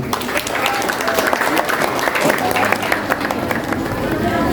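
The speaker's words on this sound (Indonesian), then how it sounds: "Boleh berikan tepuk tangan untuk ini." An audience at an end-of-year gathering for sixth-grade pupils at an Islamic elementary school claps loudly and continuously, a dense, steady wash of applause with crowd noise throughout.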